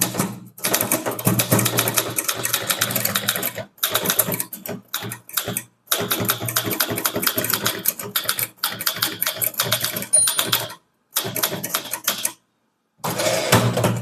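Rapid typing for an English typing exam clatters close and continuously, with brief pauses between runs of keystrokes and no talking.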